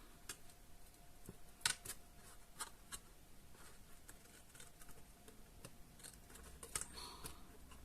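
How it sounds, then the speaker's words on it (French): Material being cut by hand while making a basket. Soft, irregular snips and clicks come up close and faint, scattered unevenly through a quiet room. "J'essaie de couper."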